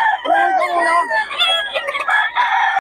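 A rooster, a fighting cock at a market, crows loudly and close by, a long harmonic call stretching across the clip with a few shorter crowing bursts following.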